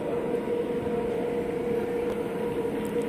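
Steady rumble of a Singapore MRT train interior on the green line between Bugis and Tanah Merah, a continuous low hum with a constant tonal whine throughout, moderately loud and with no talk.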